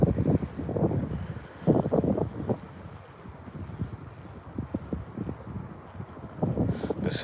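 Gusty wind buffeting the microphone outdoors while fishing, coming in low rumbling bursts that swell and fade, with quieter lulls between.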